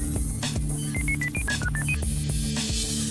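A telephone call is dialed: a quick run of about eight keypad tones in a rising and falling sequence, over a steady electronic tone and soft background music.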